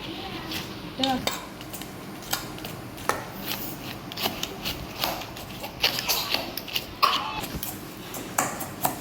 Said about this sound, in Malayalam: അപ്പോൾ നമുക്ക് നന്നായിട്ടൊന്ന് ഇളക്കി കൊടുക്കാം.